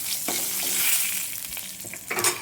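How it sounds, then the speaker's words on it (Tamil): Curry leaves and dried red chillies fry in hot oil, giving a steady, close crackling sizzle with small pops and a few louder bursts toward the end. "எண்ணெயில் அப்படியே வதங்கட்டும்."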